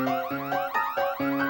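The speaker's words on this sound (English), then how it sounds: "He pulled the fire alarm so everyone would have to run out of the store." Fire alarm ringing as a sound effect in an animated show, a loud, continuous electronic warble that sweeps up and down in rapid repeating cycles, alone without talk.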